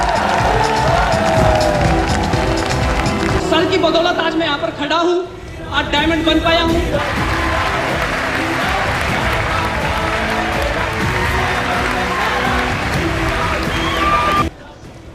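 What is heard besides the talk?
standing crowd applause and cheering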